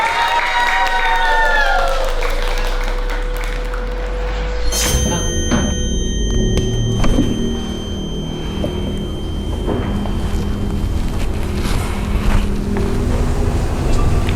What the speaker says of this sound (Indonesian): Tepuk tangan untuk Gilang.